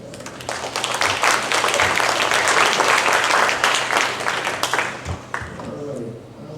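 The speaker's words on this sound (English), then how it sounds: "So you can give her a round of applause" A crowd at a residents' meeting gives a resident a round of applause, dense and steady clapping that swells and then tapers off toward the end, fairly loud, with a few voices underneath.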